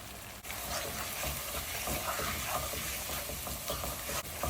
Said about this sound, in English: This is the time I'm adding the basic masalas.